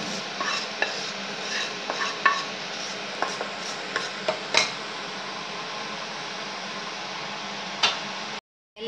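A spoon stirs a curry leaf tempering into cooked rice for ven pongal, giving scattered close clinks and scrapes against the pot over a faint sizzle, then a brief silence near the end.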